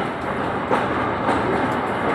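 A passenger train runs on rails near Bishnupur in Bankura, heard from inside the carriage as a steady, loud rumble with faint clickety-clack of the wheels and no voices.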